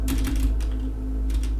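A few keystrokes on a computer keyboard, with a soft spacebar press among the sharp taps, close and clear over a low steady hum.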